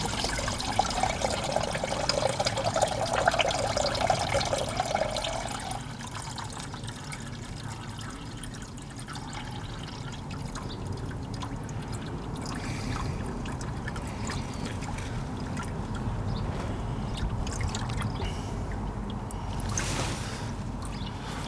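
Coolant draining out of a Volvo V70 engine during cam cover work, a steady watery pour and trickle that runs on and off throughout, fairly close with a stronger splashy stretch at the start.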